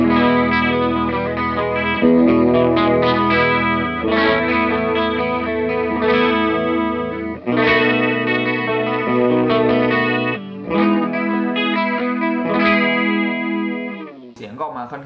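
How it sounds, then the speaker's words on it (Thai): Electric guitar played through a Tank analog chorus pedal shimmers through strummed chords and picked phrases, loud and continuous with a few short gaps. "ลองเปิดคอรัสดูนะครับ"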